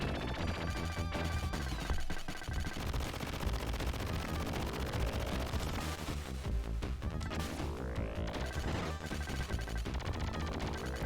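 Rapid gunfire and explosions from the Sega Genesis game Contra Hard Corps, dense and continuous over a loud game soundtrack with no talking.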